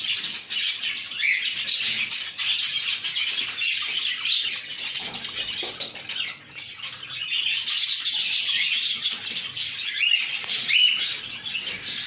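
A pair of pet birds, male joining female, chirping and tweeting continuously up close in quick high-pitched bursts, louder at the start and end with a brief lull midway.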